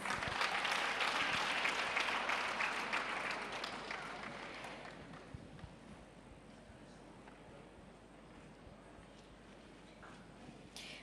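Applause from an audience at a World AIDS Day event for Nyamagabe Health Center of the Southern Province, loud and dense at first, then thinning and fading to scattered claps.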